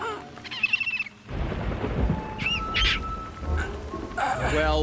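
A bird cries out in an animated A Bug's Life parody, a few short high calls sounding amid a loud, continuous wash of rain-like noise and rumble.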